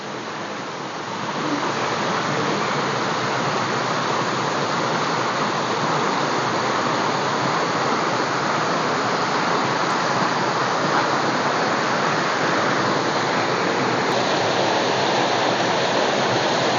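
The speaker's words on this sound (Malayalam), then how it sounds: "ഇതാണ് ആ വെള്ളച്ചാട്ടം കണ്ടത് ആദ്യത്തെ വെള്ളച്ചാട്ടമാണ്" A powerful, unbroken roar of Mankayam Waterfalls in a forest, loud and close, filling the whole stretch with dense rushing water noise.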